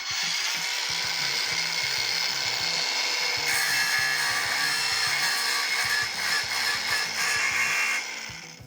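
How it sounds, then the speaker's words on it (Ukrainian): A standard angle grinder cuts at a 30-degree angle, a loud continuous high whine that keeps going for several seconds, shifts pitch midway and then stops abruptly. "Знову ж таки, звичайна болгарка."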